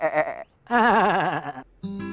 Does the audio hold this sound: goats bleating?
yes